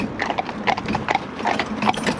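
Horse hooves clip-clop on a road in an even walking rhythm, a string of close, crisp strikes heard without talk.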